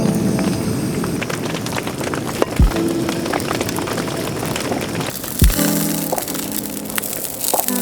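Heavy rain pours down outdoors at Morton Fisheries, a fishing lake, with a dense, steady patter and scattered sharp taps and cracks. Two louder knocks stand out, and no one speaks.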